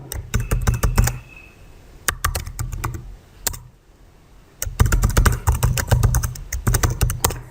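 Account details go into a computer keyboard in bursts of rapid, loud, close key clacks, with a pause in the middle before another dense run of typing.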